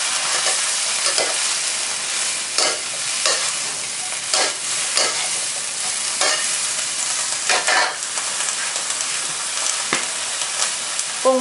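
Garlic and morning glory stir-fry in a hot pan: a steady sizzle broken by repeated scraping strokes of a spatula at an uneven pace.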